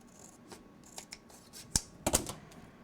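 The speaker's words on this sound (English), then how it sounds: "I'm just going to remove this tab with my scissors" A few sharp snips of scissors cutting a paper tab from a scrapbook album pocket, spaced irregularly and heard close and fairly quiet with no talking.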